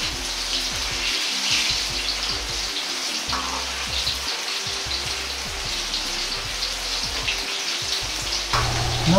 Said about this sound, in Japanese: 茄子は高温で揚げることで短時間で火を通し、旨味を引き出し柔らかく仕上げることができます。